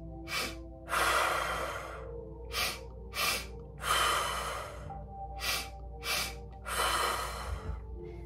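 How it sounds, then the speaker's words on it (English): A breathwork session with a rhythmic pattern of short nasal sniff inhales followed by longer forceful exhales, repeated several times close to the microphone with brief pauses between. "When this inhale is really contracting, sniff, sniff, out."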